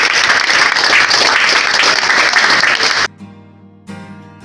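A church congregation at a deliverance service breaks into loud, dense applause that fills the first three seconds, then stops abruptly and leaves a low background hum.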